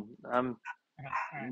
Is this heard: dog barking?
yes